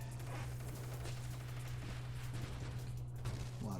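Dense, steady bullet fire in the co-op space shooter Nova Drift, a continuous rapid stream of small shots over a constant low hum, sustained and fairly loud throughout without pause.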